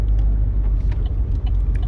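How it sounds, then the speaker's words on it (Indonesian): A Chevrolet Trailblazer's 2.5-litre Duramax turbo diesel idles after a remote start, a steady, close, low rumble with no voices. "Kita nyalakan, nanti mobil mesin nyala dan dia langsung otomatis menyalakan AC mobilnya."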